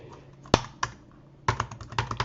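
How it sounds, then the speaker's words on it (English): Computer keyboard keys clicking while someone types a login on an iPad, a few scattered taps and then a quicker run of sharp, close keystrokes over a quiet room. "Don't worry about all the keyboard clicking sounds."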